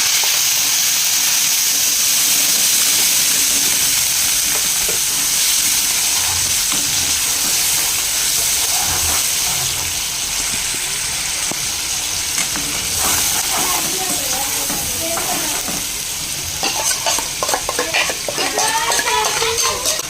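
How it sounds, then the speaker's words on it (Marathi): Ground spice paste frying in oil hisses in a loud, steady sizzle, with scraping stir strokes and bubbling crackles growing busier toward the end. "आता बघूया आपण मसाला मस्तपैकी आपला तेल सोडलं असणार आहे मसाल्याने"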